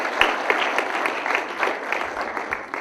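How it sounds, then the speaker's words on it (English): Audience applause for performers at a school awards ceremony, a steady dense wash of many hands clapping that holds at an even level throughout. "A big round of applause for all performers."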